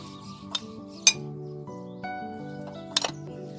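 A spoon scrapes and clinks against a bowl while thick potato pakora batter is stirred, with a few sharper knocks over a steady low hum of background music.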